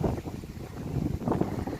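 Wind blows outdoors in a steady, rough rumble, buffeting close against the microphone without a break and with no voices.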